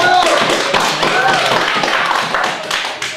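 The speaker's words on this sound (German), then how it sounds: "Ein Applaus für dich." Scattered hand clapping from a small audience at a poetry slam, a short burst of sharp, uneven claps close by that tapers off toward the end.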